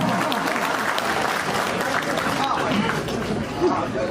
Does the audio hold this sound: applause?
yes